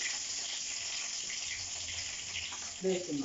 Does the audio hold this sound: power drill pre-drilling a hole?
no